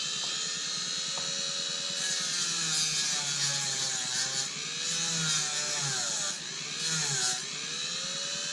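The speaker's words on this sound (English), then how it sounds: "want to also do the wheels, a lot easier to do it with a Dremel." A Dremel rotary tool cleans the wheels of a 1:28 scale German WW2 Tiger 1 model tank, whining at high speed with pitch wavering up and down as the bit presses and eases against the wheel, close and continuous.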